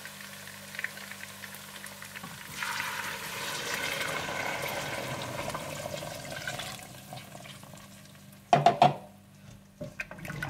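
Stock and water poured into a pot of browned meat for Afghani pulao: a soft, continuous splashing pour that fades, then a couple of sharp clanks of a utensil against the pot near the end.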